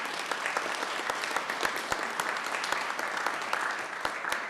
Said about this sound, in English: let's give these two ladies a round of applause